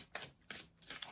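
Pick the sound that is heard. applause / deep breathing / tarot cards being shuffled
tarot cards being shuffled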